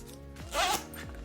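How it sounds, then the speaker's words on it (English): A zipper on a clutch purse slides shut in one short, quick pull, close up and crisp. "I can now close the zipper"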